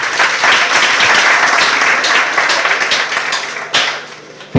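An audience at a secondary school visit by a government official claps in steady, close applause that fades gradually, ending with a few sharper claps.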